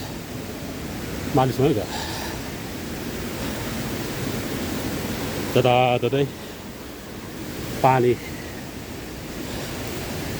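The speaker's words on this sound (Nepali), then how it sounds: "झर्ना तल झरेको आवाज आइरहेछ" A waterfall on the walking trail from Sundarijal to Sundarimaai Temple roars as a steady broadband rush throughout, with brief bursts of voices talking over it.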